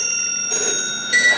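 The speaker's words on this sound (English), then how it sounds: "phones in this room are a different pitch, the ringing." Bright, sustained bell-like ringing tones shift pitch twice in quick succession, a close vintage telephone ring at the Connections Museum in Seattle, with no talking.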